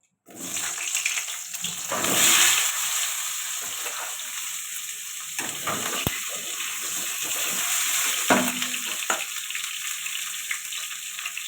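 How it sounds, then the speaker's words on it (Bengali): Pointed gourd pieces fry in hot oil in a pan, giving a continuous close hissing sizzle with a louder surge early on and a few brief knocks of stirring. "এবার পটলগুলো ভেজে নেব"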